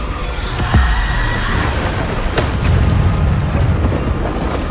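Bombarda spell explosions in Hogwarts Legacy, deep booming blasts that land close and loud amid a rumbling combat backdrop.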